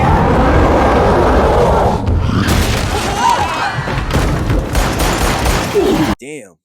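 Gunfire aimed at the President of the United States in a scene from the film Captain America: Brave New World (2025): loud bursts of shots and heavy booms mixed with score and voices, then abruptly cutting off near the end.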